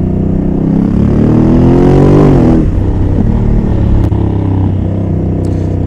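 A 2021 Honda Africa Twin revs hard on a race track, its engine note climbing steadily before dropping sharply at a quick gear change, then droning on loud and close at a lower pitch.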